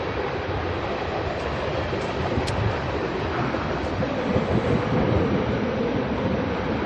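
A long train rumbles past nearby, a continuous broad roar with wind buffeting the microphone, steady and loud throughout with no voices.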